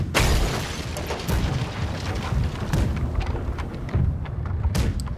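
Broadside cannons on a sailing ship roar out in the Blackwake naval battle game: a string of heavy booms and blasts at uneven intervals over a constant rumbling din, loud and close.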